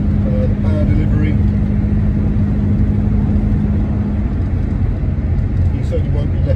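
A 1963 Jaguar Mark 2 fitted with a CMC 4.2 engine accelerates hard, a steady loud low engine drone with road rumble held throughout, likely heard from inside the car.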